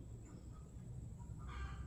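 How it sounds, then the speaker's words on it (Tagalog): Faint, distant clucking of chickens under a low background rumble, growing a little louder near the end. "nagpuputakan na naman ng mga manok"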